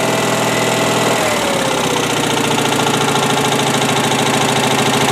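An Onan CCKB engine fitted with a new exhaust runs steadily at idle, loud and close, with a constant knocking mechanical drone and a slight shift in pitch partway through.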